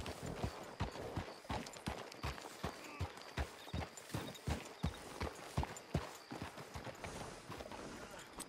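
Horse hooves clip-clopping at a steady trot in the Red Dead Redemption 2 video game, a regular rhythm of sharp, fairly close hoofbeats running throughout, with faint voices and ambient game sound beneath.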